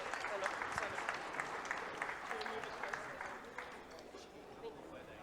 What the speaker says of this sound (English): can we just give our young people a round of applause before we commence?